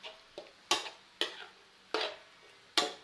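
Pork belly with southern curry paste, oyster sauce and beans is stir-fried, giving several sharp, separate scrapes and clacks of a spatula against the pan at an uneven pace, close and fairly quiet over a faint sizzle.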